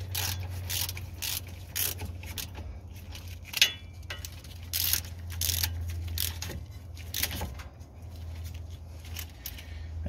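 Ratchet wrench tightening a 14 mm brake bolt on a Subaru Outback during a front brake pad job, giving short bursts of metallic clicking spread across the clip over a steady low hum, with no talk.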